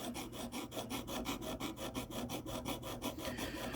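A ZT 0562 S35VN knife blade being sharpened on a KME sharpener, with fast even rasping strokes repeating several times per second, close and fairly quiet with no talk.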